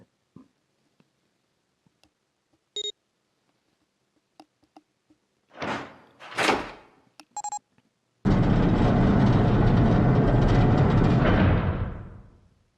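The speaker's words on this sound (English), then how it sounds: "The door opened." Door opening in the video game 999: a few faint beeps and clicks, two brief whooshing slides, then a loud sustained mechanical rush that holds for about three seconds before fading out.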